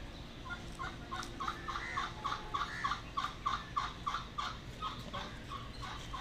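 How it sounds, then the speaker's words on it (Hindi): Turkeys at a country club zoo gobble repeatedly in quick rattling bursts, moderately close, over a steady outdoor background with no talk. "आपको आवाज़ आ रही होगी टर्की की।"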